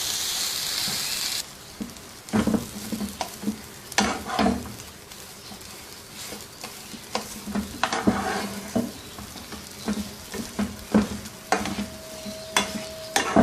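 Mashed potato stuffing cooks in a pan, with repeated scraping and stirring strokes and soft clinks of a utensil over a low sizzle after an opening burst of hiss.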